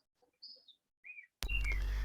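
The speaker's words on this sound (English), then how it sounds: "we can hear the beautiful chirping birds in the background from your side" A couple of short, faint bird chirps sound in an otherwise quiet background before a sudden loud burst of broadband noise cuts in.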